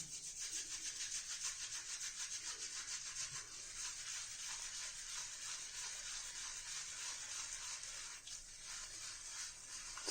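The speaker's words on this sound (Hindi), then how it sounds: "देखते हैं कैसा लदरिंग करता है।" A wooden-handled shaving brush whipping shaving cream into lather in circular motions, a continuous close, wet, fizzing swish with a quick even rhythm and no talk.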